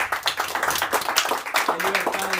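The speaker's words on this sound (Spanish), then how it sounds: "Puede darle una ofrenda de palmas al Señor" A church congregation claps hands together as an offering to the Lord, brisk and loud, with a lively, slightly uneven rhythm and voices speaking and calling out over the clapping.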